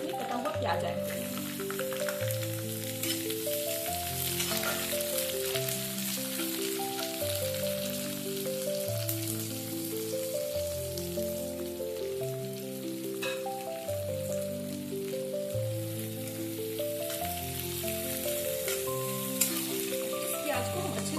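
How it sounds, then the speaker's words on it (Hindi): Chopped onions fry in a pan for bachelor-style Maggi, giving a continuous sizzle under steady background music that runs throughout, with no talking. "इस प्याज को हम अच्छे से भूनने देंगे।"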